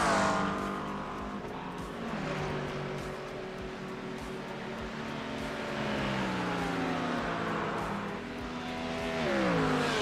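GT3 race cars in a sim racing league race at Watkins Glen, engines droning steadily with rising and falling pitch as cars pass and shift, loud and continuous.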